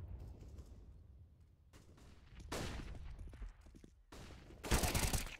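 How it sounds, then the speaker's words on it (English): Gunfire in a competitive Counter-Strike match, ESEA league play: muffled distant shots early, then a louder burst of rapid shots near the middle and a sharp, loud volley at the end, with quieter game ambience between. "Oh, Anti with a nice little headshot onto MJ in Banana"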